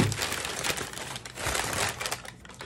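Paper wrapper inside a Cup Noodles box crinkling and rustling close up, in uneven handled bursts for a few seconds, without talking.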